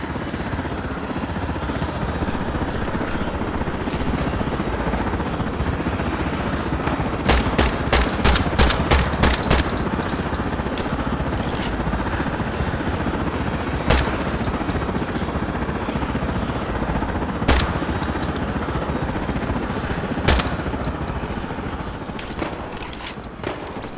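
Gunfire in the game Project Silverfish is aimed at a helicopter: quick strings of sharp shots and single cracks over a steady, loud rotor drone, with no speech heard.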